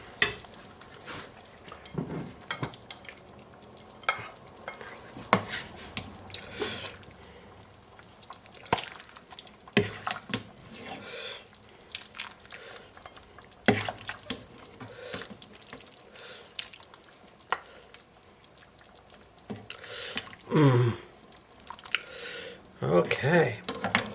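Beef vegetable soup being ladled out of a pot into bowls: irregular liquid drips and pours mixed with close clinks of a metal ladle and dishes, scattered sharp knocks throughout, with some voice in the background.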